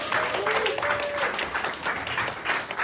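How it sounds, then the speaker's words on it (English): An audience claps for a guest president, a steady, fairly close patter of many hands lasting throughout, with some voices mixed in. "let's give a round of applause again for our guest president"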